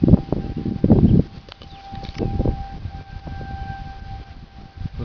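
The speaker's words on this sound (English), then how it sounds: "That wasn't the only tornado siren." Tornado siren wailing during a thunderstorm, a thin steady tone carried from a distance beneath loud outdoor rumbling and gusty noise, no speech.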